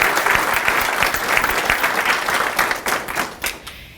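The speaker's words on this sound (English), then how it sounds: "So I just want to give you all another round of applause." Loud, close applause fills a high school future educator signing ceremony, a dense wash of clapping from the audience that holds steady before fading at the end.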